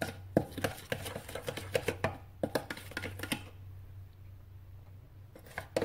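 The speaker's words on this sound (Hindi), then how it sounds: "अब इसको कर लेते हैं अच्छे से मिक्स" Spoon scraping and tapping in a pan or bowl as tikka boti masala is stirred into a home-cooked dinner dish, a quick run of sharp clicks and knocks, then a quieter pause and a few more taps.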